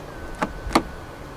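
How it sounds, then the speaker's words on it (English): Two quick, faint clicks about a third of a second apart as the keyless door handle of a 2020 BMW 218i Gran Coupe M Sport locks the car, heard alone against quiet background. "To lock the car, press the ribbed area on any of the four door handles."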